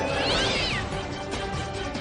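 A cat named Pinky yowls and meows loudly while struggling to break free of a person's grip, with rough, strained cries running continuously and close over background noise.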